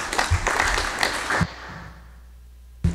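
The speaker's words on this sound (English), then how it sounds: "So please give him a round of applause." A short burst of applause from a small group in a legislative session hall claps for over a second, then stops abruptly, leaving a quiet room and one late clap.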